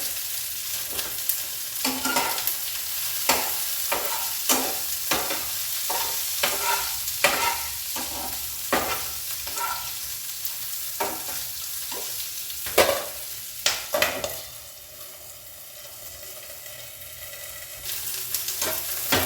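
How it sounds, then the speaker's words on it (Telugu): Cumin seeds frying in oil in a pan for a radish, coconut and raw mango chutney, a continuous sizzle broken by repeated crackling pops and spatula scrapes over about twenty seconds, close up with no talk. "కొంచెం జీలకర్ర వేసుకున్నాం అందులో"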